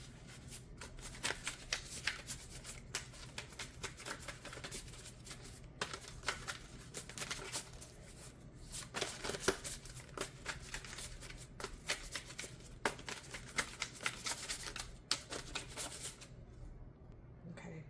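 Dark Mansion Tarot cards being shuffled by hand, continuous soft riffling and flicking in repeated bursts, close and quiet, with no talking.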